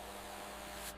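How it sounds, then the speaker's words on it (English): A spray gun applies primer to a homemade car frame, giving a steady, close hiss that runs continuously and cuts off near the end. "Here we see the meticulous application of the primer."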